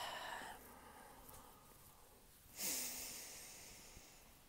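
A single deep breath during a tapping massage, drawn in quietly and then released as a soft, hissing exhale in an otherwise near-silent room.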